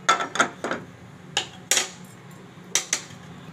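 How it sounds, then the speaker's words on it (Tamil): A metal pan set down on a stovetop while cooking ragi halwa gives a few sharp, close clanks and knocks in quick clusters, with quiet gaps and no talking. "ஸ்டவ் ஆன் பண்ணி மறு ஒரு pan வச்சிடலாம்"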